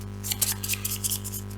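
A deck of pattern cards for a board game is shuffled by hand, giving a quick run of crisp riffling, flicking bursts over a steady background hum.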